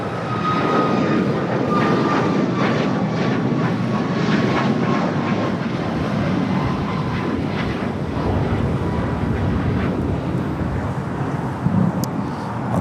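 A Piper aircraft takes off from runway 25 left at LAX, its engine a steady, loud roar holding for the whole stretch with no voices.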